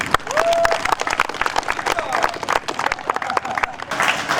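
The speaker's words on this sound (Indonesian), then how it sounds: "Oke, tepuk tangannya mana?" A crowd at a disaster-safety school training session run by East Java's disaster agency at PKBM At Taubah claps steadily and loudly throughout, with voices talking over the applause.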